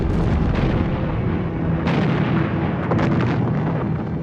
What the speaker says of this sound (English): On the 21st of February 1916, the German bombardment began.